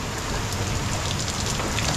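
Heavy rain pours steadily and loudly in a dense, unbroken hiss close by, with no voices over it.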